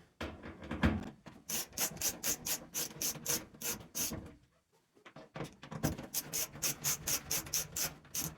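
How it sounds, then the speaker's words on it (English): Screws being driven out around the door of an LG dryer, a run of rapid rhythmic ratcheting clicks from a screwdriver, pausing briefly midway before a second close burst. "Next, we'll remove the screws around the door."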